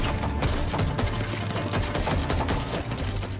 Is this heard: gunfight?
yes